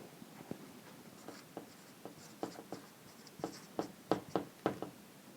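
Pencil or pen scratching out math on paper, a run of short quick strokes that start sparse and grow busier, close and fairly quiet, with no voices.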